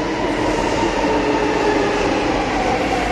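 A Delhi metro train pulls into a platform with a loud, continuous rumble and rail roar that fills the whole moment, with no talk over it.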